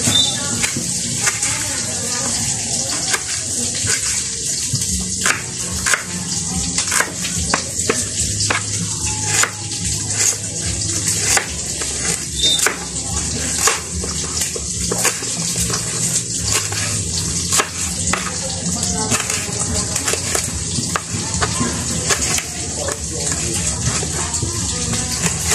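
Tap water runs steadily while vegetables and ingredients for sinabawang bangus, such as ginger, long chili and green onion, are rinsed, with splashing and clattering over the flow. A voice talks throughout.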